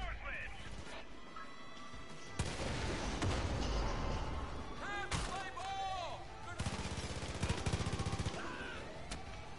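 Gunfire in the video game Far Cry 5, with loud bursts of shots and rapid automatic fire starting a few seconds in and recurring throughout, crackling and crashing over an ambient game backdrop.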